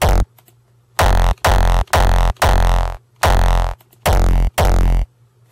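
Hardstyle kick made with FL Studio stock plugins, phaser switched off, a run of seven heavy, distorted, tonal booms in a steady rhythm, loud and close, alone.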